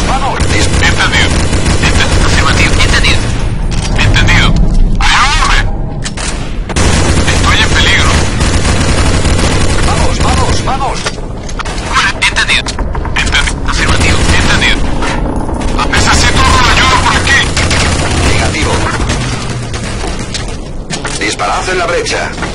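Dense, continuous video game gunfire with bursts of automatic fire and booms runs loud through the whole stretch, with players talking over it.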